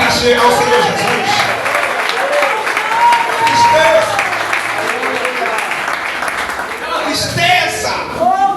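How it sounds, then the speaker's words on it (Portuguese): A church congregation claps together during a worship service, a steady, dense wash of applause that fills the room throughout, mixed with voices talking and singing over it. "Pode aplaudir e glorificar ao Senhor Jesus."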